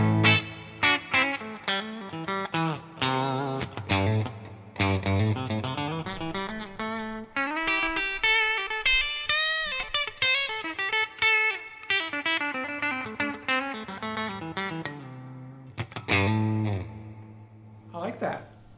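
Godin Radium electric guitar played through clean split, full humbucker and single-coil tones, with quick plucked runs and chords that ring and decay over about eighteen seconds, close and clear with short pauses between phrases.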